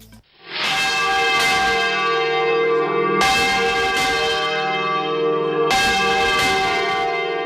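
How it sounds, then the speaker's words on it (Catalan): Church bells in Albaida ring out in a loud, festive solemn peal for the feast of the Mare de Déu del Remei, with strong new strikes landing every few seconds over a long, shimmering resonance. "És el gran repic de solemnitat del Dia de la Mare de Déu del Remei"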